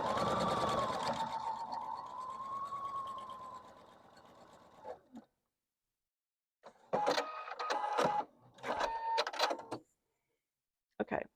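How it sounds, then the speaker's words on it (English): A sewing machine runs a long continuous stretch stitching a quilt block seam, then stops and restarts in several short bursts of whirring, with pauses of near silence between them. "I've sewn it from end to end"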